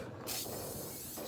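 A steady aerosol spray paint hisses close by onto a 2021 Supra wheel, broad and airy, continuing through most of the short stretch with a slight dip partway.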